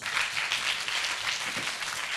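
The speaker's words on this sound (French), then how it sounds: "Bravo mes chéris, on applaudit." Steady applause from a young children's audience at a live televised children's show, an even wash of many small hands clapping, moderately loud and unbroken throughout.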